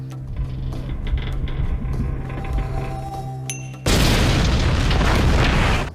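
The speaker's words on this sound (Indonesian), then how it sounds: "yang akhirnya meledak di ladang ranjau laut" A dull, muffled rumbling gives way to a sudden loud, sustained roar of an undersea explosion in a sea minefield in an animated film, filling the sound and holding for about two seconds.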